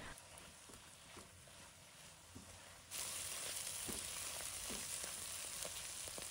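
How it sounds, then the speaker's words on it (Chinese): Shiitake mushrooms stir-fried over high heat in a wok with salt, sugar, soy sauce, oyster sauce and pepper, giving a steady soft sizzle that grows louder midway, with faint scraping stirs and no talking. "大火快速的翻炒均匀"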